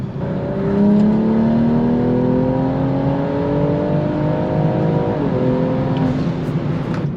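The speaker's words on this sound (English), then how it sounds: "A fourth gear pull to 114 kilometers that quick?" A car engine revs steadily upward under hard acceleration in fourth gear to 114 km/h, a loud continuous drone climbing in pitch for several seconds with a brief dip near the end.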